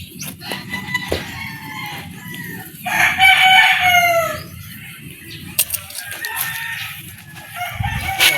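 A rooster lets out one loud, drawn-out crow near the middle, while hens cluck intermittently around it and wings flap now and then in a noisy farmyard setting, no voices.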